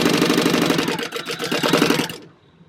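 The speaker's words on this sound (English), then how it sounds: "Make sure that I'm back stitching using 1/4 inch seam allowance." A sewing machine back stitches a 1/4 inch seam in orange thread on a pumpkin bucket bag, a steady rapid mechanical whirr running loud and close for about two seconds before cutting off abruptly.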